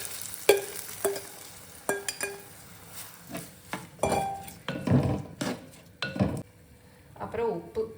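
Mashed tomato sautés in a pan for tomato rasam, with a light sizzle and repeated sharp clinks and scrapes of a spoon stirring against the pan, close up and irregular.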